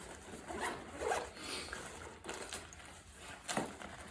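A zipper on a fabric fishing worm bag used to store spinnerbaits is pulled in several quick rasping strokes close to the listener, with no talking over it.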